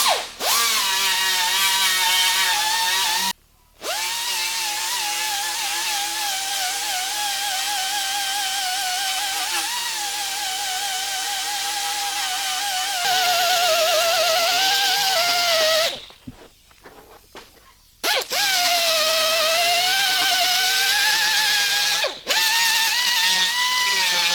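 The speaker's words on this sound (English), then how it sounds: "come in with a die grinder and a sanding disc and just remove all of the paint products and some material on both sides of our crack here" A die grinder fitted with a sanding disc strips paint from the cracked plastic body of a 1991 Cadillac Sedan DeVille, a loud, continuous high-pitched whine that runs at length with a few brief pauses and shifts in pitch as the load changes.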